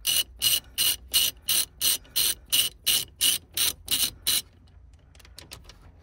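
A hand ratchet loosens a steering wheel bolt on a car with an airbag, giving about twelve evenly spaced, crisp clicking strokes up close, followed by a few faint light clicks.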